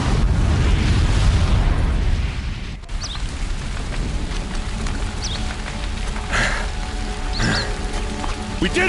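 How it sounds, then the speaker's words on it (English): A bomb booby trap exploding in Horizon Zero Dawn: a heavy rumbling blast at the start decays into a long crackling, debris-filled roar, with faint voices and scattered clatters afterward. "the booby trap on the bomb downstairs is gonna get set off"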